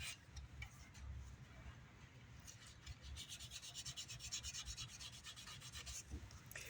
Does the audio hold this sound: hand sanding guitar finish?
yes